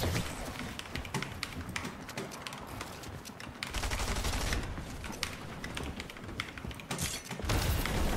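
Rapid video-game gunfire, including the mammoth pistol, in a ranked match: dense, continuous bursts of shots with heavy low-end booms throughout, loud and close, with no voices over it.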